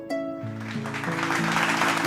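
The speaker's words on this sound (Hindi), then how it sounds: "तो आइए जोरदार तालियों के साथ स्वागत करते हैं अनुकृति का" Applause from the audience at a school talent-contest stage show welcoming a guest singer, swelling up over a held musical tone and chord changes, and growing broader and louder toward the end.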